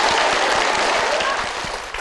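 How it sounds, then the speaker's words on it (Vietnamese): Studio audience applause welcoming three players on the Vietnamese game show Đuổi Hình Bắt Chữ, a loud, dense wash of clapping that holds steady and eases slightly at the end. "Ngay bây giờ chúng ta cùng dành một tràng vỗ tay để chào đón ba người chơi."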